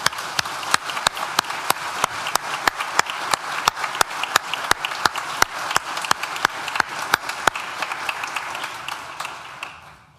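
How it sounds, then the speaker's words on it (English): Sustained applause from a crowd at a university graduation ceremony, dense steady clapping with sharp individual claps standing out throughout, fairly loud and continuous before tapering slightly at the very end. "Please join me in thanking them with a well-deserved round of applause."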